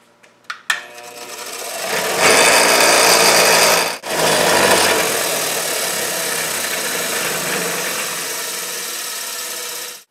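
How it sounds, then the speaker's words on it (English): An old Lucas starter solenoid is cleaned on a grinding wheel. A few clicks lead into the motor spinning up to a loud, steady whine, briefly dipping once, then grinding on continuously. "Obviously I got the grinding wheel here. I'm going to clean it up real quick."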